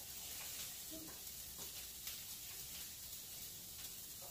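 Squid and octopus pieces sizzling on a Philips smokeless indoor grill, a faint steady crackling hiss with small pops and occasional scraping of a utensil.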